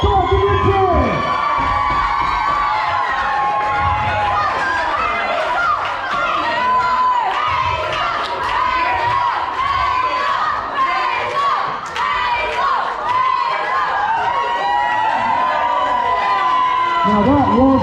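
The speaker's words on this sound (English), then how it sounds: "Come on, give me a cheer." Loud, sustained crowd of children cheering and shouting at a Christmas party, dense overlapping whoops and chatter that carry on without a break, with an amplified voice at the start and end.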